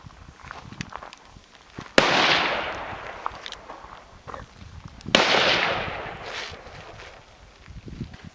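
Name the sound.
rifle shot fired in offhand position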